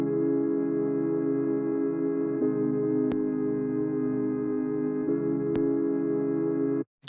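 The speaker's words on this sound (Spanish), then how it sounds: "Ahora lo que hice fue agregar una ecualización, igual un filtro, un poquito de suciedad, que suena así." Sustained background pad vocals shaped with EQ, a filter and slight distortion, a steady dense chordal wash held for several seconds with a couple of brief clicks, alone and up front.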